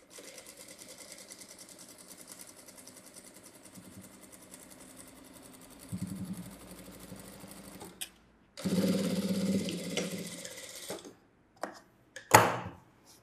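A sewing machine stitches an edge seam on a blouse, running in short bursts that grow louder and more sustained toward the end, with brief pauses between runs and no voices.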